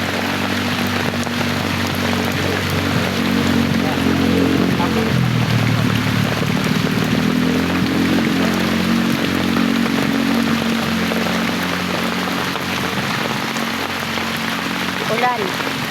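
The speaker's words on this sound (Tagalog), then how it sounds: "Ulan." Steady, heavy rain pours onto surfaces for the whole stretch, loud and continuous, with a low engine-like drone running underneath.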